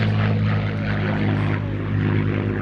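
A Spitfire with D-Day invasion stripes flies past at an airshow, its piston engine a loud, steady propeller drone that holds constant and fills the whole stretch.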